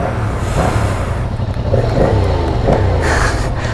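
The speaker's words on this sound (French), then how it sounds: "petit freinage d'urgence" Yamaha R1 motorcycle braking hard from about 50 km/h, a loud, close, rumbling engine and road noise with uneven pulses as it slows, no speech over it.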